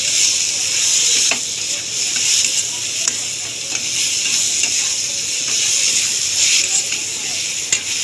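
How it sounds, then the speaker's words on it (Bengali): Masala for chicken kosha fries in oil in a pan, giving a loud, close, continuous sizzle. The spatula scrapes and stirs through it at irregular intervals. "মশলাটা আমার প্রায় কষা হয়েই এসেছে।"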